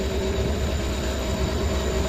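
The Dehradun Kathgodam Express rolls along an electrified line, heard from inside as a steady, loud rumble and rail hiss that holds evenly for the whole stretch, with no voices.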